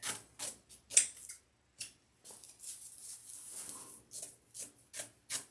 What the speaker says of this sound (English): This is how I cut my mesh. Kind of hold it up and just cut.